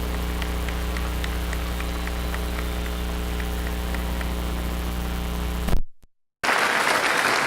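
An audience applauds the top 25 students at a high school graduation ceremony. The clapping is steady and dense under a constant hum and is cut off abruptly, then resumes.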